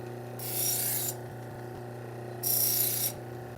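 Kitchen knife from a butcher block set drawn across a sharpener in two separate gritty rasping strokes, heard close over a steady low hum.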